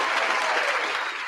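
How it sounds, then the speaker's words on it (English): Audience at a televised panel event breaking into sustained applause, a brief, steady burst of many hands clapping at moderate volume. "I'm going to give everybody another round of applause."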